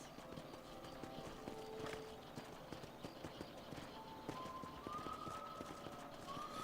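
Horse hooves galloping in a video game, a rapid, continuous clip-clop close by over a busy background of game sounds and rising tones, moderately loud and without pause.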